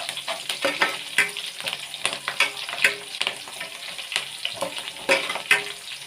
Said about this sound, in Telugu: వేగేదాకా బాగా కలిపెట్టుకుంటూ ఎర్రగడ్డలు బాగా వేయించుకోవాలి